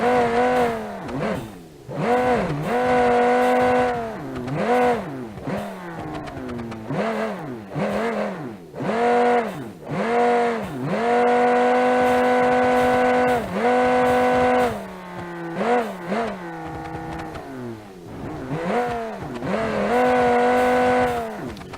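A rear-wheel-drive car in the BeamNG.drive video game races hard around a small twisty course, its engine revving up and dropping repeatedly through shifts and corners, loud and close throughout with occasional tire squeal.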